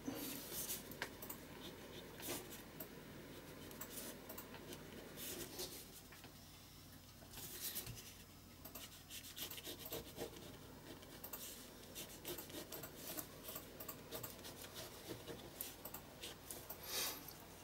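Pencil lines are drawn on an art journal page with soft close scratching and rubbing strokes, repeated in irregular bursts, faint and without talk.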